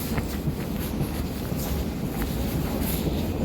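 A Siemens Class 700 train running: a steady, low, rumbling roar heard from inside the carriage, with a windy hiss and a few faint knocks, and no talking.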